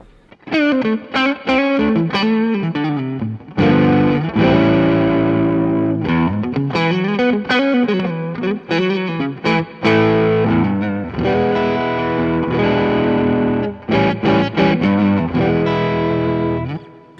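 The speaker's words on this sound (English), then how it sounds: "so I've got my tube screamer" An electric guitar through a Tube Screamer overdrive pedal, with a warm, mid-heavy, low-gain overdrive, plays chords and riffs at a steady volume, with brief pauses between phrases.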